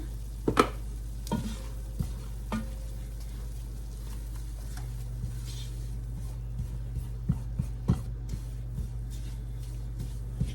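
A spoon or whisk works flour into melted butter for a roux in a pan, giving soft scraping and occasional taps against the pan over a low, steady background hum.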